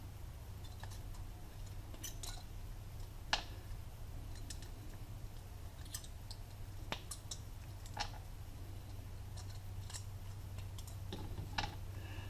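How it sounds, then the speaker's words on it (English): Silver contact buttons being cut off electric meter switches make sharp, scattered snips and clicks, close and fairly quiet, spaced irregularly over a low steady hum. "I just cut those silver buttons off"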